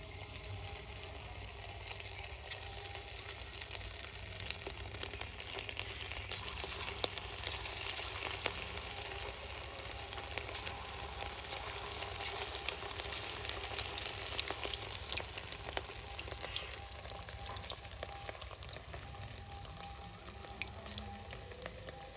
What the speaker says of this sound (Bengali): এখন আমি এর মধ্যে চিকেনটা দিয়ে দেবো, এক এক করে ভেজে নেব।